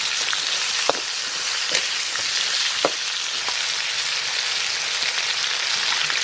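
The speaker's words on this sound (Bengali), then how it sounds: "সর্ষে ফোড়ন দিয়ে দেবো আমরা, আর কাঁচা লঙ্কা দিয়ে দেবো ভাজা কাঁকড়া" Mustard seeds splutter in hot oil for a crab curry, making a steady loud sizzle with a few sharp pops scattered through it. No voices are heard.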